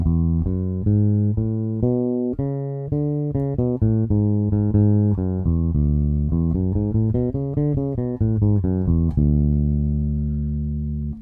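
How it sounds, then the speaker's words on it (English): Plucked bass guitar notes alternate between a low root and a major seventh above it in a steady rhythm, ending on a long ringing low note. "Now I'm playing the root and the major 7 just to get you to hear."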